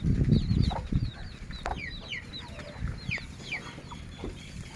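An Aseel hen sitting on eggs clucks softly nearby while small chirping calls repeat throughout, over a low, quiet background.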